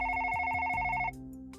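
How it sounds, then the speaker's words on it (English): A work phone rings in the video game Broken Colors, a rapid electronic trilling bell pulsing for about a second before cutting off, leaving a quiet low background tone. "The work phone suddenly interrupts any thoughts I had"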